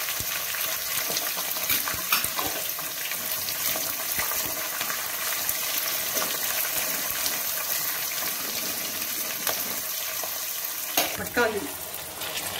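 Red chillies, cashews, curry leaves and onion fry in hot oil for brinjal rice (vangibath), making a continuous close sizzle with occasional stirring scrapes and clinks throughout.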